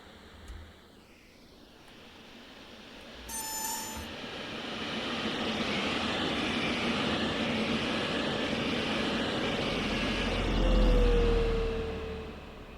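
A DB BR 218 diesel locomotive in Train Sim World 4 on the Hamburg–Lübeck line passes by, its engine drone swelling from distant to close and loud, then fading, with a brief horn-like tone.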